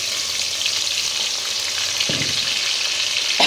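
Ginger, onion, green chili and garlic paste sizzle in a hot pan, a close, steady frying hiss with a brief stirring clatter partway through.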